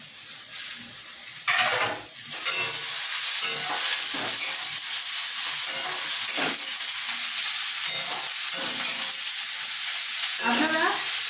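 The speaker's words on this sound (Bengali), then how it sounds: "আর দিয়ে দেবো কুচানো কাজু বাদাম।" Chopped cashews stirred into vegetarian chowmein frying in a hot pan, with a constant bright sizzle and repeated scraping, tossing strokes of a spatula, close up and steady throughout.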